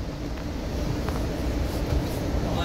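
Inside the lounge car of the California Zephyr passenger train, a steady, fairly loud low rumble and rattle of the moving carriage continues as the car rocks and wobbles along the track.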